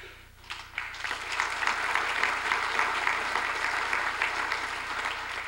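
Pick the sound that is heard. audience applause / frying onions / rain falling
audience applause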